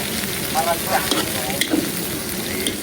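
Garlic and onion sauté in a pan for frog tinola, giving a steady, close broadband sizzle with a few soft scraping stirs and faint background voices.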